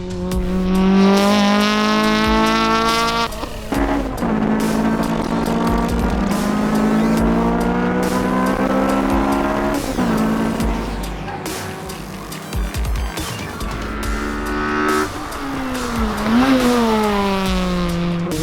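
A K-swapped Honda Civic race car engine screams through high revs, climbing and dropping through gear shifts, loud and close as it laps the track.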